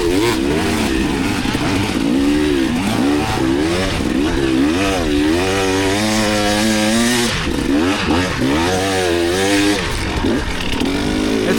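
A 300 dirt bike's engine revs hard climbing a hill, rising and falling in loud, close, rasping surges with steady throttle changes throughout.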